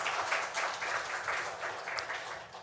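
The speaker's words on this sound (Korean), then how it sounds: "우리 하나님께 영광의 박수 올려드리겠습니다." A church congregation at a Sunday worship service claps together in sustained applause, a dense, even patter of many hands filling the room without pause.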